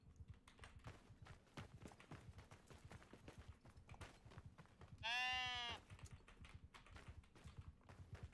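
A single wavering sheep bleat sounds clearly over a steady clatter of keyboard typing, lasting under a second, with no talking.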